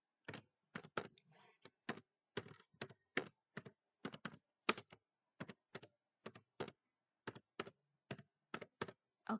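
Crisp, quick keystrokes on a computer keyboard, clustered in short bursts with brief pauses, close and clear with no talk.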